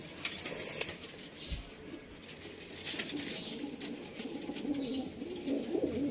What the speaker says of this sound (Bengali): খুব সুন্দর পায়রা তো